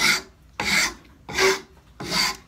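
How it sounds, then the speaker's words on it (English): Rasp filing down a wooden double bit axe handle: four steady back-and-forth strokes of coarse rough rasping, each about half a second with short gaps, close and fairly loud, no talking. "So we're going to start rasping this down"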